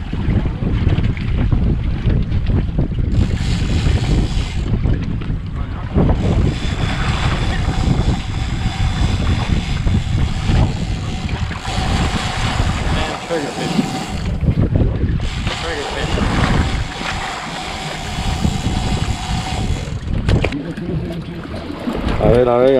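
A fishing boat cruises on open water near Miami Beach, a continuous engine drone mixed with strong wind buffeting and splashing water throughout, with people talking over it.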